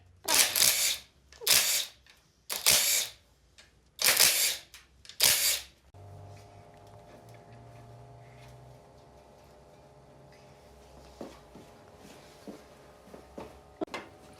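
A camera shutter fires five times in quick, evenly spaced sharp clicks, followed by a quiet hum with a few faint ticks and knocks.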